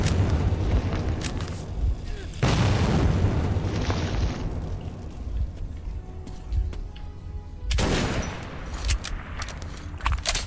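A grenade goes off in the video game Metro 2033, and several sharp, loud blasts burst over a continuous noisy rumble of gunfire and combat. Players talk excitedly over the action.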